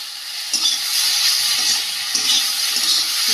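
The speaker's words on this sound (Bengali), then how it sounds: "দিয়ে ভালোভাবে কষিয়ে নেব সবজিটা" Vegetables with salt and coriander powder being sautéed for a fish curry, a steady bright sizzle with intermittent stirring and scraping, no voices.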